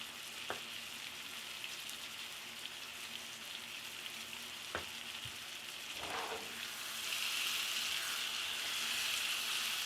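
Steak pieces and potatoes frying in a pan give a steady, close sizzling hiss that swells louder near the end, with a few sharp clicks and a soft clatter along the way.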